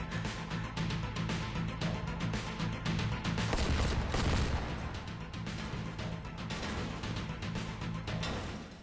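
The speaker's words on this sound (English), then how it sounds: "Celebratory gunfire." Continuous bursts of rapid gunfire in the VR video game Hot Dogs, Horseshoes & Hand Grenades, dense rattling shots with a heavier boom in the middle and a low humming drone underneath.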